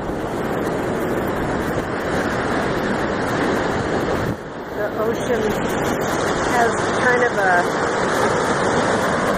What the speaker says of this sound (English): The waves are nice and white out there.